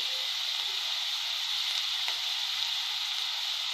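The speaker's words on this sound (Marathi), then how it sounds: "कांदा लालसर रंगावर आपण परतून घ्यायचा आहे आपल्याला" Sliced onion sizzles steadily with salt over a high gas flame, a constant close hiss with a couple of faint stirring taps.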